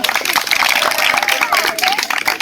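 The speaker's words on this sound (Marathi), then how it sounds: "जोरदार टाळ्या वाजवा" Students applauding at a school celebration at a government residential school, a dense, continuous wash of clapping from a crowd running loud and steady throughout, with voices mixed in.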